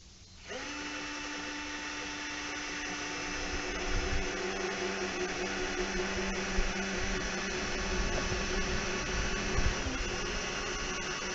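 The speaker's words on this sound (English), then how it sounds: "So I'll try to drill a couple holes here." A power drill whirs steadily at a constant pitch for several seconds while drilling holes in a door frame, a continuous mechanical hum with slight strain in the low end, no voices.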